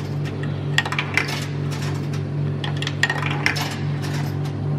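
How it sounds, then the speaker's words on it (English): Four euro 50-cent coins drop one after another into a vending machine, each landing as a sharp metallic clink and rattle over a steady electrical hum. "4 random 50 cent coins."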